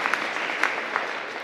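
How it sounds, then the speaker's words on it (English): An audience at a presentation applauds, producing a dense, even patter of clapping hands with a few sharper claps, steady and moderately loud throughout. "You can give him a round of applause."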